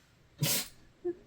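A single short sneeze bursts out close to the microphone during a makeup tutorial, followed by a brief faint sound; no talking over it.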